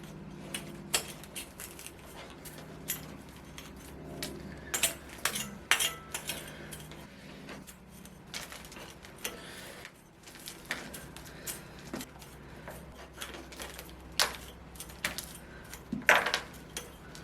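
Loose lava rocks clink and rattle as a ficus bonsai pot is emptied during repotting, irregular bursts of small stony clatters, close and fairly quiet, scattered across the whole stretch.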